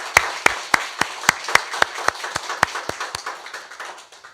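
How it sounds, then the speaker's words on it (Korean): After a choir hymn on Easter Sunday, a church congregation claps in unison, a steady rhythmic beat of sharp, synchronized hand claps repeating about three times per second, gradually softening. "우리 다시 한번 하나님께 영광의 박수 올려드리겠습니다."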